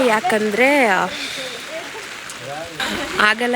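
Rain falling at Talacauvery in the Brahmagiri hills of Coorg, a steady hiss of drops under a person talking throughout.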